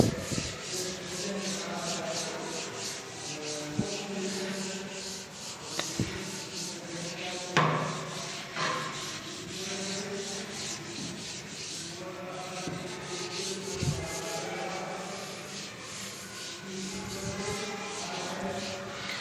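A teacher wipes a classroom board clean with steady, repeated rubbing strokes, a dry scraping swish that is close and moderately quiet, with a few light knocks along the way.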